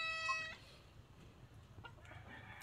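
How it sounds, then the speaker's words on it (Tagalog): Chickens clucking around a backyard poultry coop, starting with a short high whistle-like tone, then scattered soft clucks and fowl calls over steady ambient noise at moderate distance. "Sipat nga manok."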